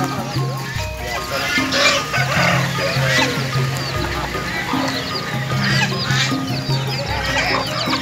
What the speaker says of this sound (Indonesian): Ayam kampung.